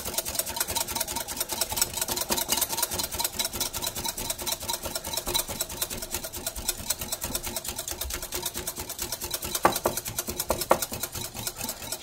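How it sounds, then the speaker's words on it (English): A whisk beats meringue for fluffy Japanese pancakes, a rapid, steady rhythmic clicking and whirring against the bowl that continues evenly throughout with no talking. "we're just going to whisk and whisk and whisk"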